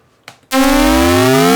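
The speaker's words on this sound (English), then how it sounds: "that sound is caused by the square wave sliding, but not the timer." After a short click, a loud buzzy square-wave synth tone from maxYMiser chiptune software starts and glides in pitch, its harmonics slowly shifting.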